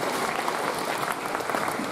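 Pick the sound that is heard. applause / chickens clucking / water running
applause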